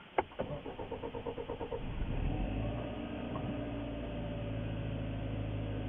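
A 2012 Hyundai engine with a freshly replaced GDI high-pressure pump cranks with a rapid series of starter pulses, then catches and settles into a steady, even idle, heard close up.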